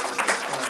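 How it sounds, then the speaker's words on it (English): Audience applause at a devotional Srimad Bhagavatam class in a cultural center, a short burst of steady, dense clapping from a seated crowd at moderate volume. "Big round of applause, please."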